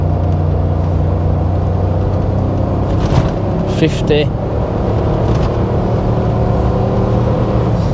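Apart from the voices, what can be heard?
Range Rover P38 accelerating in gearbox sport mode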